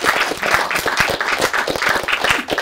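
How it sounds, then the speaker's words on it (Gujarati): An audience at a Gujarati film event gives steady, dense applause, many hands clapping close together without a break, with no voices on top. "ચાલો ખૂબ બધી તાળીઓ સાથે"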